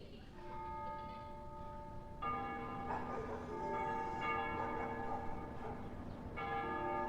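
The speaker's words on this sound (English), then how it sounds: "They ring the bells here at dusk to honor the liberation of the capital." Church bells ringing at dusk in the liberated capital in Ace Combat Zero: The Belkan War, with layered, resonant tolling and fresh strikes a few seconds apart, soft and somewhat distant.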